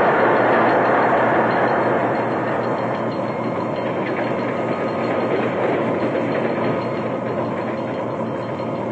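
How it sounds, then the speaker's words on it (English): A Baltimore & Ohio passenger steam train rumbles steadily along the rails, a loud continuous roar with faint rhythmic clacking, no voices. "closes the throttle to slow down the train"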